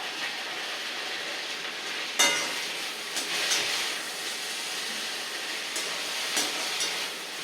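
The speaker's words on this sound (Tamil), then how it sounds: "இந்த எண்ணெயில் வதங்கணும்." Coriander, curry leaves and mint sautéing in oil: a constant hissing sizzle close by, with a sharp clatter early on and a few softer stirring knocks, and no speech.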